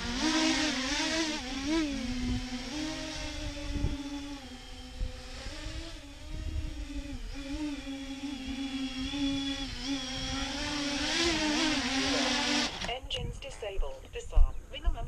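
Drone motors rated 1000 kV on a 12S battery spin up with a loud, sustained whining buzz that wavers in pitch as throttle shifts, running steadily for about thirteen seconds before cutting out into clicks and handling noise.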